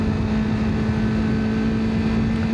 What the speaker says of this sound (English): That stock exhaust sounds pretty good though